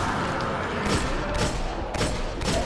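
Rapid gunfire from the video game Destiny, with dense bursts and several louder shots spread across the clip.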